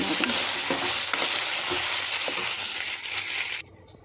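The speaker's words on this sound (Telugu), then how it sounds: "ఇవన్నీ ఒకసారి కలిపేస్తున్నాం" Whole spices such as cinnamon stick, clove and shahjeera fry with ginger-garlic paste in a pan, a steady loud sizzle with a spoon scraping and stirring through it, cutting off abruptly near the end.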